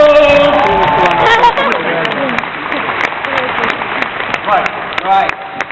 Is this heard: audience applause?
yes